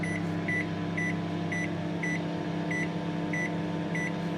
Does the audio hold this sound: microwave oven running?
yes